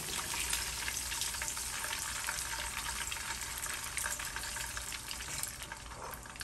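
Sliced bitter melon (karela) frying in hot oil makes a dense, even, continuous sizzle with fine crackles, loud and close, no voices.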